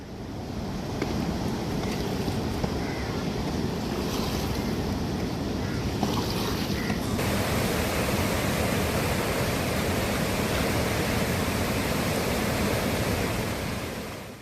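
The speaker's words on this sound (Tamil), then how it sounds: "இதனால் ஹொக்னிக்கலில் பாறைகளை மூழ்கடித்தபடி தண்ணீர் ஆர்ப்பரித்து செல்கிறது." The flooded Cauvery River at Hogenakkal roars over submerged rocks in a dense, unbroken rush of water that holds steady and loud throughout, with no voices over it.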